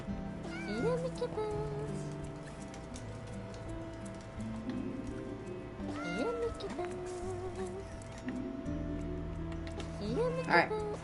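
Short, faint cat meows rise up now and then over a quiet indoor background with voices and a steady hum, one louder meow near the end.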